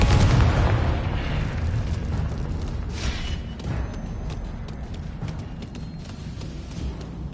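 Confringo explosion spell cast in the Hogwarts Legacy video game, a dense, loud burst of booming blast noise at the start that trails off into a steady rumbling wash.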